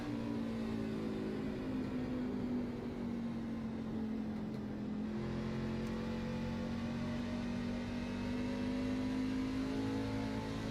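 A race truck engine in an online racing league game drones steadily and loudly throughout, its pitch sagging slightly midway and then climbing again, with no talk over it.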